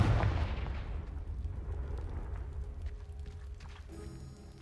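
The Confringo spell in the Hogwarts Legacy video game goes off as a single deep blast at the start, its rumbling boom decaying steadily over a few seconds with scattered crackling debris.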